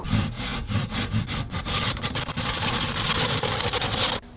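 A hand saw works back and forth through wood being trimmed to length for a boat anchor installation, with steady rapid rasping strokes close up that run continuously before stopping abruptly.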